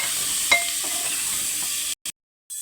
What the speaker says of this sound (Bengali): আবার একটু ভালো করে কষে নেব।